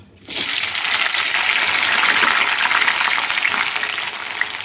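Onions, garlic and green chillies dropped together into hot oil that already holds spluttered mustard seeds and browned urad dal, bursting into a loud, dense, continuous sizzle up close that holds steady for several seconds.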